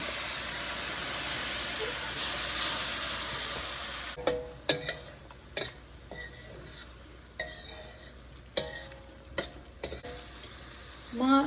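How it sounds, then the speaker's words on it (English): Tomato sautéing in an oily pan for a Filipino beef kaldereta stew, with a steady loud sizzle and hiss at first, then quieter frying broken up by repeated clinks and scrapes of a utensil stirring against the pan. "And then you saute the tomato."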